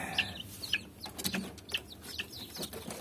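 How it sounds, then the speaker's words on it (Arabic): Young chicks of an Iraqi protected chicken breed cheep on a rooftop, several short high peeps over a soft background rustle. "وهذني كتاكيت المصلحة، شوفوهن"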